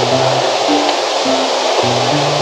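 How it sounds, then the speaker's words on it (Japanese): A loud waterfall roars close by in the Kumano area of Wakayama, its splashing spray making a dense, continuous rush that fills the scene with no pauses. "うわー、滝が近い。"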